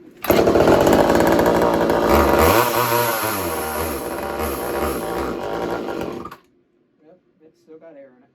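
A Poulan chainsaw under repair roars loudly up close for about six seconds, its pitch wavering as it revs, then cuts out abruptly, leaving near silence broken by a few faint clicks.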